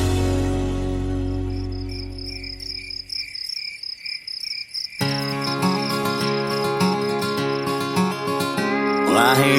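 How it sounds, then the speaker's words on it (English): Crickets chirp steadily in a continuous high trill that carries through the whole stretch, joined midway by a denser layer of insect or night ambience as the chorus thickens. "I hear crickets."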